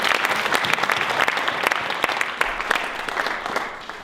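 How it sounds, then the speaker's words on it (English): A crowd claps steadily and densely throughout, a sustained round of applause with scattered sharper claps standing out. "Let's give a big round of applause to the team."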